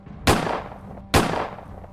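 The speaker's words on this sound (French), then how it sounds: "2 coups de feu successifs ont perturbé la classe" Two sharp, loud gunshots about a second apart, each followed by a short fading echo.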